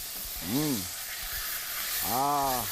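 Food browns in a Chinese frying pan with a steady hiss across the whole stretch, close and moderately loud, while a voice cuts in twice over the sizzle.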